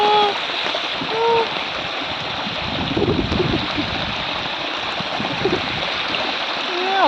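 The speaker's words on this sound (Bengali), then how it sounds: "মনে হচ্ছে আমি ঝর্ণার পাড়ে এসে বসে আছি" Continuous babbling and splashing of a flowing stream close by, steady and bright, with a few faint chirps and light handling noises.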